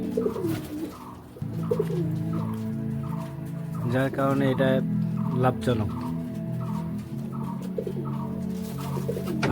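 Pigeons coo in a soft, repeating rhythm throughout, with flutters and a brief burst of calls while someone talks over them.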